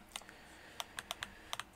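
A computer keyboard is typed on in a series of sharp, close clicks, scattered singly and in quick pairs over a quiet background, with no one speaking.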